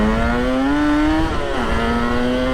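Kawasaki KR1S and ZX4RR sports motorcycles race off together, their engines revving loud and close in a steady rising howl with a brief dip as gears change, then climbing again.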